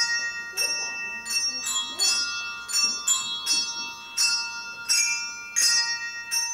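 A school bell rings out at the end of the school year at an arts school, bright metallic strikes repeating in an irregular series of clear, ringing tones that decay between hits.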